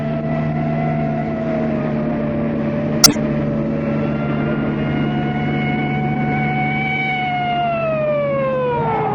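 A police car siren in a 1968 radio drama, a loud wailing tone holding steady and then sliding downward near the end, with a sharp click partway through.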